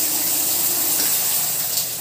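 Water from a hotel shower runs hard and steady, a dense bright hiss of spray that stays constant and close for the whole moment, with no talk.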